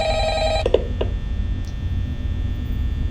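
A telephone rings briefly in the night-shift office of the horror video game Five Nights at Freddy's, a few trilling rings cutting off within the first second over a steady electrical hum and low background drone.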